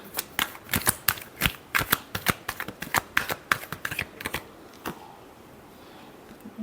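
Tarot cards are shuffled close up in a quick run of crisp riffling snaps, roughly a dozen bursts in steady rhythm, fading out to near silence after about five seconds.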